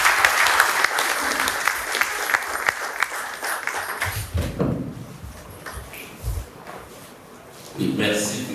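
Audience applause warming up a hall at a lecture event, loud and dense for the first few seconds, then thinning out, with speech and shuffling noises in the quieter stretch.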